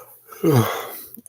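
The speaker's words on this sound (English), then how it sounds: "am so sorry for yawning." A single person's yawn, a drawn-out breathy vocal sound rising and then fading over about a second, close and fairly quiet.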